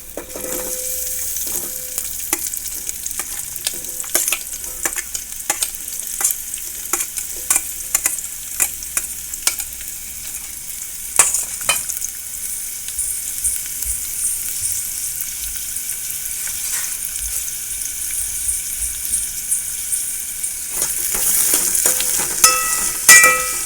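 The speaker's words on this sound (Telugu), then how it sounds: "ఉల్లిపాయలు అయితే వేయించుకుందాం" Sliced onions sizzle in hot oil in a pan for an egg omelette curry, a constant loud hiss broken by repeated scraping strokes of a stirring spoon.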